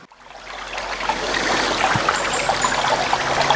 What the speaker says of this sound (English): There in one mass uniting pour their flood, over broken ledges to the deep below.